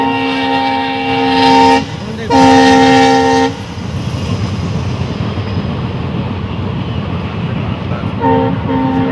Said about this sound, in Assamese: আমি ট্ৰেইন ক্ৰচিং পাই গ'লোহি